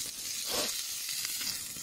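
Food sizzling in an aluminium frying pan over a camp stove at a wild camp in Snowdonia: a steady, close, hissing fry that runs the whole time, with no voices.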